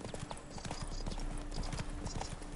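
Roach, Geralt's horse in The Witcher 3, gallops with rapid, rhythmic clip-clopping hooves over a steady rumble of movement, close and continuous throughout the short stretch.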